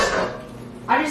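Heavy cast iron skillets clank and scrape as they are stacked as a weight on a homemade cheddar cheese press, two loud metallic knocks close by.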